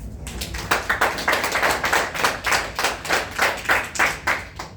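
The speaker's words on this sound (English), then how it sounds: "Clap." Hands clapping in a classroom, a group beating out a fast, steady rhythm of loud claps close by, with no talk over them.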